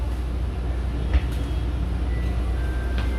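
Steady low rumble of a Delhi Metro train in motion, heard from inside the carriage, with a brief louder clunk partway through and faint tonal whines above the continuous hum.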